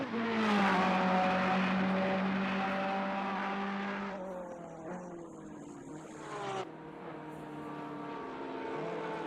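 Bentley GT race car in qualifying at Kyalami circuit, engine note loud and harmonically rich as it passes, then dropping in pitch with gear changes and lift-off as it brakes into a right-hand corner.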